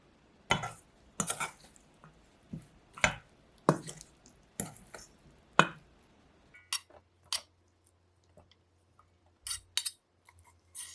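Salad ingredients mixed in a bowl with salt, pepper, perilla seed powder, whole grain mustard and perilla oil give a series of sharp, wet clacks and squishes, spaced irregularly and close by, with no talking.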